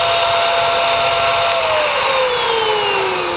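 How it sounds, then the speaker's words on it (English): An Okki Nokki record cleaning machine's vacuum runs loud and steady, drying a vinyl record with a constant high whooshing roar and a whine that slowly drops in pitch. "Again, we turn the vacuum into place. Turn it on."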